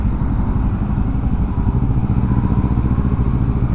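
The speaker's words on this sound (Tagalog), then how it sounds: "Ang motor nila, oh, expressway legal." Motorcycles on an expressway give a steady, close engine rumble with a dense low roar and light clatter that holds at an even loudness throughout.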